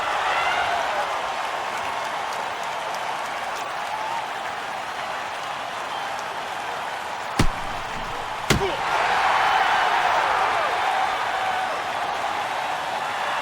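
Arena crowd in the NHL 09 hockey video game, Edmonton Oilers versus Tampa Bay Lightning, roaring steadily after a fight, with two sharp slams and a swell in cheering near the end.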